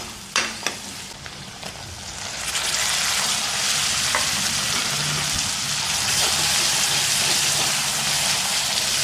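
Onions fry in oil in a pan that already held fried chicken, starting with a few sharp clacks before a loud, dense, rain-like sizzle swells up and holds steady close by, with no talking.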